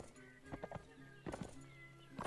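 A horse in the video game Mount & Blade: North & South neighs and whinnies with clip-clop hoof sounds, short bursts separated by pauses, fairly faint and heard without talk.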